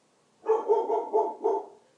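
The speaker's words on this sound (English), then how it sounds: "Sorry, that's my dog." A dog barks about four times in a quick cluster, fairly close and loud, in an otherwise quiet room, ending with a fading tail.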